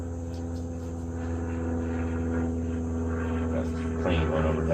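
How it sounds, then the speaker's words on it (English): A plane passes overhead as a steady, droning engine hum with a low buzzing tone, holding at moderate loudness throughout and swelling slightly toward the end, heard outdoors over faint background noise. "Plane going overhead."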